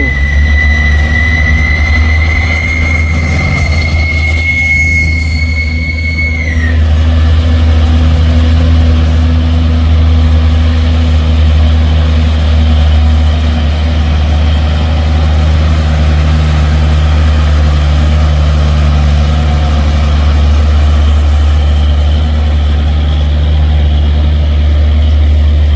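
A heavy 6x2 truck rated at 220 PS idles in very hot weather with a loud, steady low rumble. A high whining tone fades out early, then the engine drones on alone without pause.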